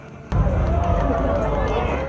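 Crowd of spectators roaring together at the Wolmido fireworks festival over the sea off Incheon's Jung-gu on a summer night, a sudden loud swell of massed voices sustained close by after a sharp onset.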